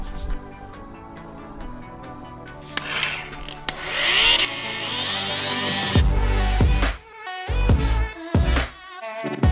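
A buffing machine polishing the headlights of a Ferrari 458 Challenge Evo, a steady whirring drone that rises and shifts in pitch, then cuts into short bursts near the end.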